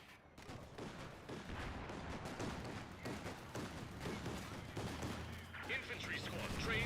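Video game battle with continuous gunfire and artillery booms, dense and loud throughout, with distant game voices mixed into the combat.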